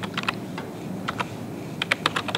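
Code being typed on a computer keyboard during an intro computing lesson, quick bursts of crisp key clicks separated by a short pause, close and clear with no talking.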